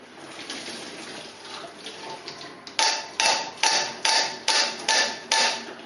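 Running water, then six or seven sharp metallic knocks of a spoon against a pan of cooked rice in a steady rhythm, loud and close, after draining the rice with a sieve.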